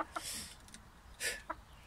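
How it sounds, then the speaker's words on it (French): Hens cluck softly in short bursts, a few nearby clucks over quiet outdoor background noise. "Je vais mettre l'échelle et la dernière poule va descendre."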